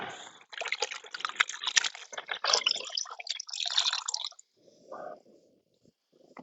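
Hot water poured and splashing during wound care on an animal, a dense wet pouring and dripping that runs for about four seconds and then gives way to a few faint splashes and quiet.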